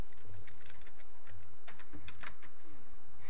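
Soft, irregular clicks of keys tapped on a computer keyboard, faint against a quiet background hum, with no speech.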